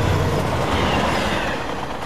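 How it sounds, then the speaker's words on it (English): A train runs steadily along the rails on the way to Berlin, giving a continuous, loud rumble with a faint rhythmic clatter of wheels throughout. "Dirk Koster boards a train for Berlin"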